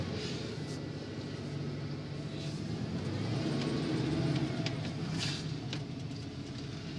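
A 1993 Ford F250 pickup with a 5.0 engine and rear-wheel drive driving along, a steady low engine drone with road rumble and a slight swell midway, heard close from inside with no talking.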